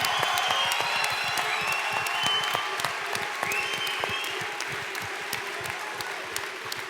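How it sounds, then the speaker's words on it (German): A panel audience gives a steady round of dense clapping that continues throughout and fades slightly toward the end, with no voices on top. "Herzlichen Applaus für Manuel Fink."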